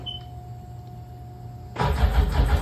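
A Sea-Doo 951 DI personal watercraft engine with a weak battery is silent at first, then cranks loudly and roughly, turning over in a rapid uneven churn for about a second at close range.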